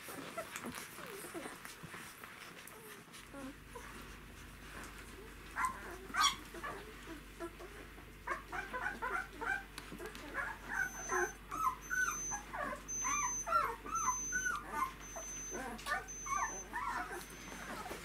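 Nine-day-old puppies squabble over a teat while nursing, a close, busy chorus of tiny whimpers, squeaks and yips that builds and continues steadily under a low background hum.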